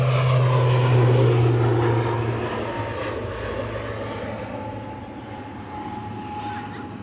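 An airliner departing Edinburgh Airport, with a loud low engine drone and tonal hum that peaks early, then fades gradually as the aircraft moves away.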